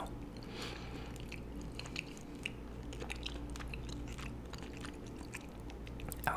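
Close, intimate chewing of chicken mole enchiladas: soft wet squishes and bites repeat irregularly over a low background hum, with no talking.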